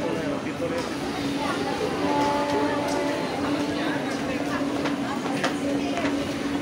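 A Chennai local train pulls away from the station with a continuous heavy rumble and faint rattling, steady and close, while voices murmur in the background.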